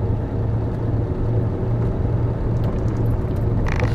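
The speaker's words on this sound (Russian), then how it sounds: "машина разгоняется очень быстро" Steady rumble of a car rolling downhill on a descent, a loud continuous engine and road drone with a low pulsing throb, ending with a brief brighter rattle.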